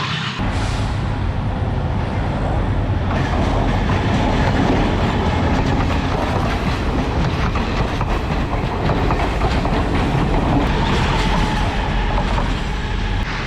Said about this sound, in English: Never get tired of this when a train passes by, so near.